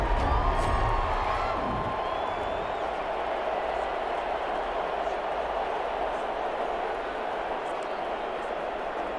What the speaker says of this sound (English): Starting to rally this crowd up, starting to build up momentum.